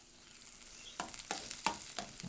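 Potatoes being stirred into browned, sizzling spices in a pan, frying hiss underneath with several distinct scraping stirs about every third of a second, close and fairly loud, no talk.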